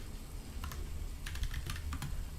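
Rapid typing on a computer keyboard, a quick irregular series of close, crisp key clicks over a low background hum, with no voice.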